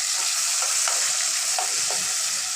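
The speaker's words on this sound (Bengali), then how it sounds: "এখন এর মধ্যে আমরা দেব পেঁয়াজ কুচি। এখন এটা একটু আমরা ভালো করে ভেজে নিব" Chopped onions fry in hot oil with a loud, steady sizzle, broken by a few soft scrapes of stirring; no one speaks.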